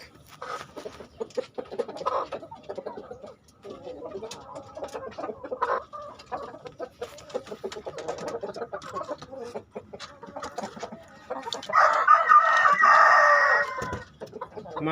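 Three hens cluck and chatter close by in a breeding pen, then a rooster lets out a loud, drawn-out crow near the end.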